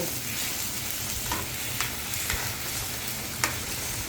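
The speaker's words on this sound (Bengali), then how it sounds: "এই যে আমি আবারও নাড়াচাড়া করে দিচ্ছি" Large koi fish in curry cooking in a pan, a steady close sizzling bubble with a few light scrapes and taps as the pieces are stirred, without speech.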